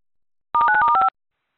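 A rapid run of telephone keypad dialing tones, about six short evenly spaced beeps, loud and clean against silence.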